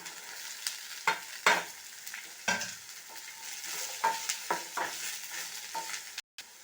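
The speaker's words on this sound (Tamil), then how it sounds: "இந்த அரிஞ்சு வச்ச காயை இதில் போட்டு வதக்கிடுங்க" Chopped carrot and beans being stir-fried in a pan, with a spatula scraping and clacking in irregular strokes over a steady low sizzle, close and fairly quiet, with no voices.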